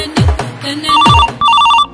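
A telephone rings loudly and close, with a couple of sharp tones followed by two bursts of rapid electronic trilling, alone without talk.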